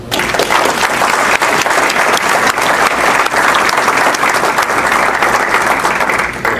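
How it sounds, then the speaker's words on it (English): Audience applause at a community campaign kickoff event, a loud, sustained crowd of clapping hands with crisp individual claps audible through the dense, even roar, lasting several seconds without talk. "Let's all give the CVC a well-deserved big round of applause."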